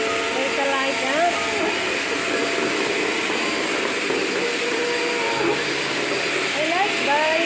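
A new Potli Forzaspira vacuum cleaner runs steadily and loudly at close range, a constant motor roar throughout while a person talks over it.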